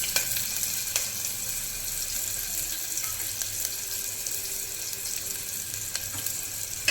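Sliced onion, half an onion cut into slices, fries in a hot pan for head curry. A steady, even sizzle continues with occasional light clinks and no talking.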